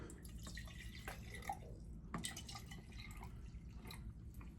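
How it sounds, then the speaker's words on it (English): Hot water being poured into a shaving scuttle makes faint trickling and dripping sounds, with a few small splashes over a quiet background. "I'm gonna pour a little hot water"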